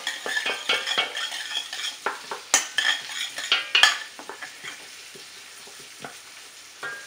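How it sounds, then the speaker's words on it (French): Sliced onions frying gently in a pan for a spiny lobster curry, a close sizzle punctuated by frequent spoon scrapes and clinks as they are stirred, busy at first then settling into a quieter sizzle, no talking. "les oignons, on va les blanchir. On va pas trop les griller"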